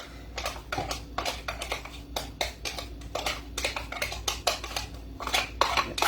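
Chopped onions are tipped and scraped into a plastic Tupperware cooking pot, a rapid run of close, sharp clattering knocks and scrapes with no talk.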